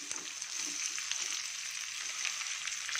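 Crushed garlic and onion frying in a pan for an idli uppittu and gojju recipe, a bright, dense sizzle up close, steady and uninterrupted with faint crackles.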